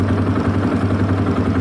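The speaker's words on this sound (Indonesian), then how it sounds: "Kita tunggu dulu ya, angetin dulu mesin." A 2009 KTM EXC 400 motorcycle idles while warming up, its loud, steady low throb pulsing evenly close by with no talk over it.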